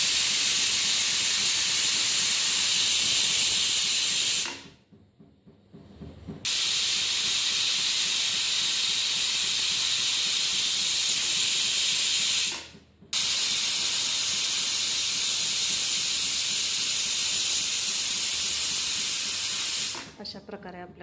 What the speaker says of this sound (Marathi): अशा प्रकारे आपल्या कुकरला 3 शिट्ट्या झाल्या